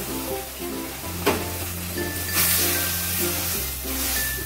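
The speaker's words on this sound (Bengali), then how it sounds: "অল্প অল্প করে দুধ দেবো আর মেশাতে থাকবো" Milk is poured in small amounts into a frying mixture in a pan and stirred in, producing a continuous loud sizzle with a steady hiss and occasional scraping from a spoon.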